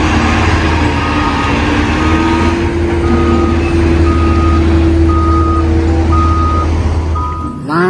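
Toy sand truck sounds a regular series of reversing beeps, evenly spaced over a loud, constant engine-like hum, with no talk.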